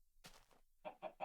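Quiet video game chicken clucks: a brief squawk, then three quick, evenly spaced clucks, with no voices.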